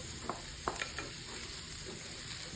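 Cut roasted chicken fries in a pan for a Filipino dish, giving a steady close sizzle with a few light stirring clicks and scrapes and no talk over it.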